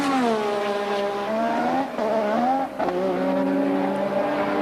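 Formula 1 V6 turbo race cars speeding down a long straight at around 200 mph, engines screaming loudly at high pitch and shifting up through gears with brief dips, one close passing roar after another.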